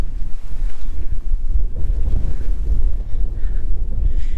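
Strong wind gusts across an open hilltop on the Skandagiri trek, a loud continuous rumbling roar buffeting the microphone throughout, with no voices.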